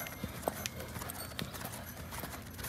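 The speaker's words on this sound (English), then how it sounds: "now lope him out of his tracks the other way" Horse loping in a riding session, a quick, steady clip-clop of hooves at close range, with a faint voice of someone talking in the background.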